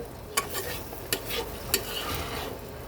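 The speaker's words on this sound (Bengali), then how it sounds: "যে পর্যন্ত জলটা না শুকাবে আর তেল না ছাড়বে সেই পর্যন্ত কিন্তু আমি এটাকে কষাতে থাকবো" Onion and spice masala for a prawn curry being sautéed and stirred in oil in a pan, a soft continuous sizzle broken by three sharp scrape-taps of the spoon, heard close and alone.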